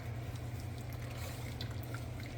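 Whipping cream poured into a pot of oyster artichoke soup, giving a steady, soft liquid pour with faint trickling over a low continuous hum, without any break in the flow.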